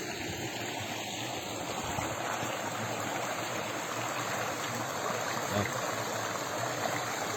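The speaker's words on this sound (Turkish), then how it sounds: "Bu su baraja gidiyor. Böyle harıl harıl akıyor." Steady broadband rush of a clear stream flowing toward a dam, water running hard and continuous without pause, close and fairly loud with no talking.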